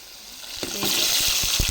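Biryani spices fry in onion oil in a pan, a quiet start that bursts into a bright, close sizzle with a few soft stirring knocks, brief and loud, with no one speaking.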